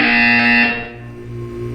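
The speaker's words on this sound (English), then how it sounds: "You will hear a buzzer. When you hear the buzzer, look up at the ceiling." A harsh electronic buzzer in the video game Portal 2 sounds loudly for under a second, then cuts to a lower hum that lingers.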